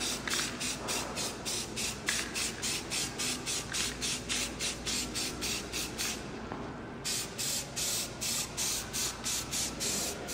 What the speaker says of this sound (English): Alright, so that's first coat of primer, just blast it on.